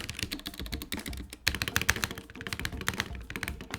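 Typing on an NK65 Entry Edition custom mechanical keyboard with hotswap switches in a cracked case, a steady stream of close, loud clacky keystrokes in quick irregular rhythm, heard alone with a brief pause partway.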